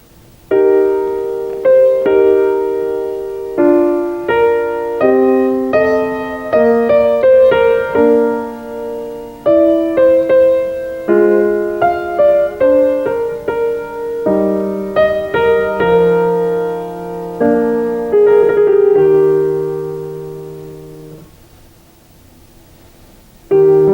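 Two Mozart phrases played one after the other on a single instrument with no overlap, a clear melodic line of separate notes that ends in a sustained tone and then near silence.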